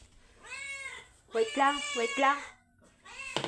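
Pet cats meowing at feeding time outdoors, a couple of drawn-out close meows with a voice speaking briefly between them.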